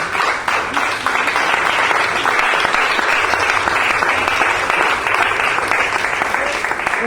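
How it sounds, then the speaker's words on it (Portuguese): A church congregation gives loud, sustained applause in honor of Jesus Christ, a thick continuous wash of many clapping hands at close range that holds steady for several seconds. "Então, por favor, dê uma salva de palmas a Jesus Cristo."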